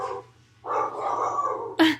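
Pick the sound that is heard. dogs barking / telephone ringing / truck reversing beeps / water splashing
dogs barking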